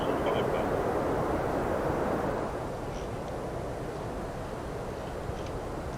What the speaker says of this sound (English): Now the aircraft is decelerating towards the F-BAT speed.